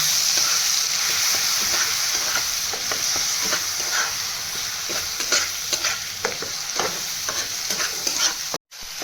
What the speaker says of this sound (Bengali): এগুলো ভালো করে ভাজা ভাজা হবে